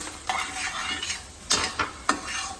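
Black pepper being stirred into fettuccine in a pan: a soft sizzling bed broken by several sharp scrapes and clinks of a utensil against the pan, close up, with no talk.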